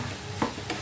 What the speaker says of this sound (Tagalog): Gisa natin ng kaunti.